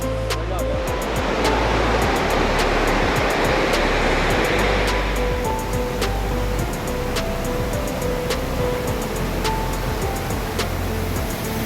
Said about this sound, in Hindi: ये है भाई वो झरना,